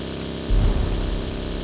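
A motorbike engine in the BGMI mobile battle royale game starts up and runs at a steady mid-pitched drone, rising in loudness partway through and holding close and continuous, with no talking.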